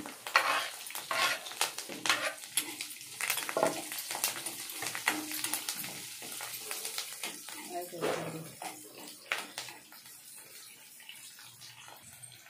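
Onion, garlic and curry leaves fry in a hot pan with steady sizzling and crackling, broken by scraping stirs and light utensil clinks, fairly close and continuous.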